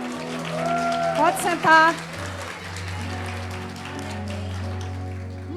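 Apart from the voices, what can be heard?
congregation applause in church service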